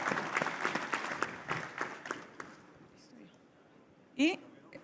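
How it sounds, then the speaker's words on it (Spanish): Audience applause at a rural peace and security panel during a national cattle ranchers' congress, loud at first with sharp claps and fading out over a few seconds, with quiet voices underneath. "Fuerte aplauso, por favor."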